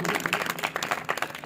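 A church congregation at a Sunday service claps in quick, uneven bursts of thanks, fairly quiet and brief, with voices mixed in around the clapping.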